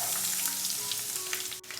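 Garlic cloves hit hot oil for a lemon pickle and sizzle in a steady, crackling fry, close and continuous throughout.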